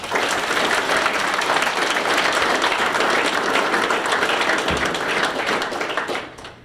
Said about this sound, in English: So another round of applause for these guys.